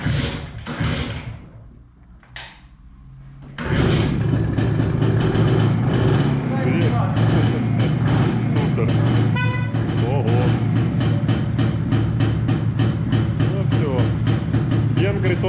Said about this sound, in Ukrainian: Запуск, запуск. Посмотрим, как после вчерашнего. Пережил ли мотоцикл или нет.